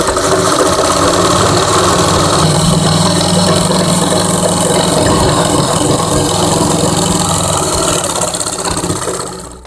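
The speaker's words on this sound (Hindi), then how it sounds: "लाइनिंग को आप सही से रख के सिलाई लगाएंगे। इसमें हम डबल सिलाई लगा के थोड़ा इसको मजबूत कर लेंगे।" Sewing machine double-stitching the fabric lining of an umbrella palazzo at home, a loud, continuous close-up mechanical whirr that runs steadily and winds down at the end.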